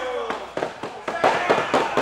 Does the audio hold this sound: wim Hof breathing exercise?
no